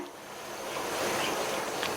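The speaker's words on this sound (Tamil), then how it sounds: "சேர்த்த வெல்லம்லாம் நல்லா கரைஞ்சு கொதிக்குது." Steady bubbling, rushing hiss of jaggery syrup boiling hard in a pan, continuous and fairly loud throughout with no voices.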